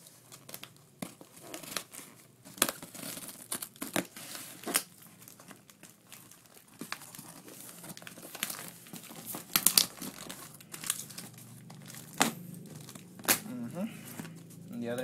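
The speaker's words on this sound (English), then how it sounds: "Let's cut this tape on slowly." Packing tape is sliced and peeled off a cardboard shipping box holding a Calvin Klein messenger bag, with close, crinkly tearing and scraping bursts in an uneven rhythm and occasional talk.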